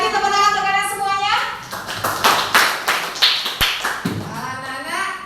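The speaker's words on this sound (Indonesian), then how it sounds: "Sekali lagi tepuk tangan untuk kalian semuanya." Schoolchildren in a classroom clap together in a burst of quick, uneven hand claps. Children's voices sound before and after.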